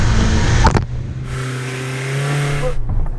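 Land Rover Defender engine revving hard as it accelerates off-road, a steady loud drone rising in pitch for a couple of seconds after a short burst of noise, then dropping away.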